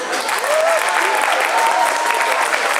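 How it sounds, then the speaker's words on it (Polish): Spectators clap for the winners on the podium after a 10 km birthday run in Gdynia, a dense, steady outdoor applause with a voice speaking over it. "jeszcze jedna nagroda najważniejsza, czyli brawa kibiców."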